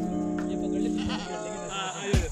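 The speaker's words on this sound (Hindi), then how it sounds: "ओए ये तो बाकी बकरा है" A billy goat bleats near a lake in the Kalar Kahar area, Pakistan, giving a drawn-out, moderately close cry. A sharp low thump sounds near the end.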